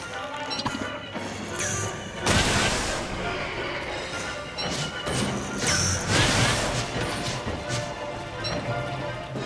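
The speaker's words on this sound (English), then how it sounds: "the boulders from the antline cave-in might damage the pseudoscience station" Boulders crash down in an antline cave-in in Don't Starve Together: repeated loud smashing impacts and rattling debris land in bursts over several seconds, with a voice talking underneath.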